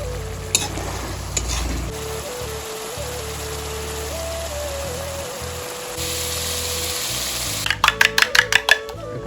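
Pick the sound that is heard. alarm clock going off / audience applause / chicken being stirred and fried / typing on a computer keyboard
chicken being stirred and fried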